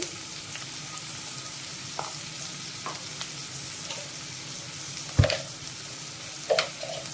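Chopped onions and green chillies frying in oil in a pan for a cucumber and drumstick curry, making a soft, steady sizzle with a few sharp utensil taps and scrapes, quiet and close.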